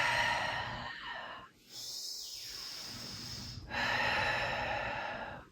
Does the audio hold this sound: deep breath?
yes